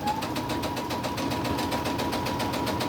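A sewing machine doing straight line quilting on a crazy crumb quilt block, its steady rapid stitching hum running continuously and close up, with no talking.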